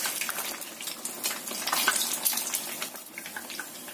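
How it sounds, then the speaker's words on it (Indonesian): Egg-white-coated food frying in hot oil gives a steady, close crackling sizzle with bubbling bursts, continuous throughout with no talking. "Goreng sampai kuning keemasan sambil kita bolak-balik."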